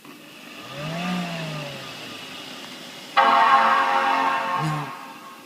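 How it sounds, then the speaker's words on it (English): A PowerMac G5 powers on: a rising electronic tone first, then the graphics card fan abruptly kicks in as a loud, steady broadband whir that persists at high level. "the loud noise you hear in there right now is the graphics card"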